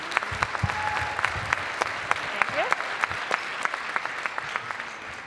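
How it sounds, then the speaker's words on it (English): Audience applause at a sixth-grade school winter band concert, a steady wash of clapping with sharp individual claps standing out, moderately near and sustained through the whole stretch. "Please give him a round of applause."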